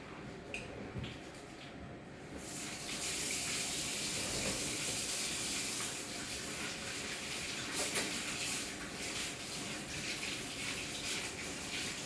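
Hands being washed under a running water tap in a nursing procedure setting, a steady hiss of flowing water that starts softer and grows fuller after a couple of seconds, continuous and close with no talking.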